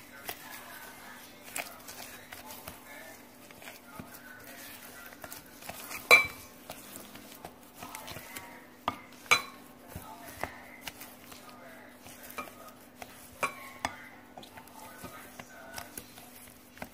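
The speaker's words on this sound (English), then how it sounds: "I'm still mixing it." Chocolate chip cookie dough being mixed in a bowl, with soft scraping and repeated clinks of a utensil against the dish over a steady low hum, plus occasional sharper knocks.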